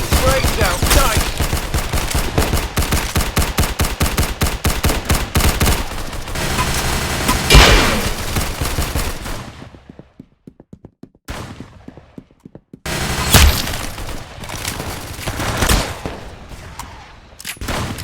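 Rapid automatic gunfire from the video game Arsenal, dense bursts of shots that thin to scattered single reports for a few seconds before heavy firing resumes, loud and steady with no talking.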